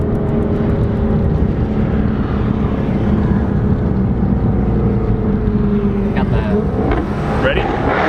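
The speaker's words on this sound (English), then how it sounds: "Just downshifting, slowing down a little bit." A Jaguar F-Type V8S engine drones loudly from inside the car as it downshifts and slows, steady throughout with a shift in tone near the end.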